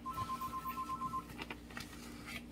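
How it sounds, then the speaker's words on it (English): A house phone rings in a kitchen with a steady electronic pulsing tone, about nine short repeated bursts for just over a second, then stops, leaving faint room noise and light handling clatter at a moderate distance. "yes, that is a house phone that you hear ringing."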